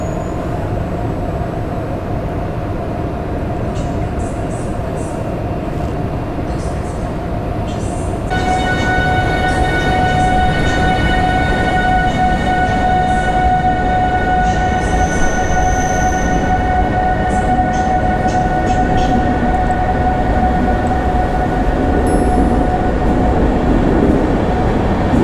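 A train rumbles steadily past, with a long sustained tone and high metallic squealing joining midway, loud and continuous throughout.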